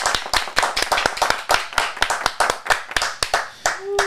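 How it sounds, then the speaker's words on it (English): Rhythmic hand clapping at the start of a podcast taping, a few people clapping in a quick uneven beat of sharp close claps for about four seconds, with a brief voice sound near the end. "How about a big round of applause?"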